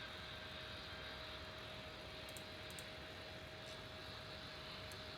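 An airliner takes off at Lisbon airport in a tower simulator game, its steady, distant jet engine roar holding at a low level without any talk.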